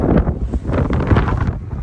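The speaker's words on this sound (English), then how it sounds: "it's windy, super windy." Strong gusting wind buffets a microphone outdoors on a farm field, a loud continuous rumbling roar that swells and dips throughout with no voice over it.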